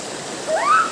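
Waterfall at Purikot Falls, a tourist spot in Sitio Purikot, Mambulo Nuevo, Libmanan, gives a steady, close rushing hiss of falling water. A brief rising tonal sound rises over it near the end.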